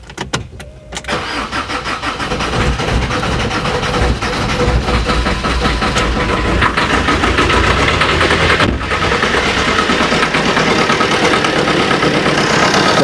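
A steady Alfa Romeo MiTo car engine idles continuously at about 1000 rpm, a constant low rumble with a faint mechanical whine, close by and fairly loud, with no voices.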